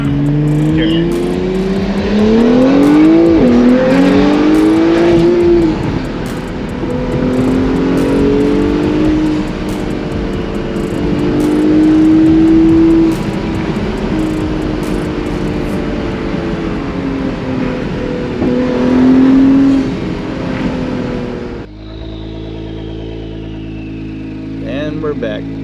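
An Acura NSX engine heard from the passenger seat while riding, its revs climbing and falling through gear changes in a loud, close drone that cuts out abruptly near the end, with people talking over it.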